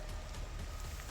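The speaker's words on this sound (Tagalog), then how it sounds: "Malakas pa yung ulan." Heavy rain pours in a constant, dense hiss, steady and unbroken, with no voices.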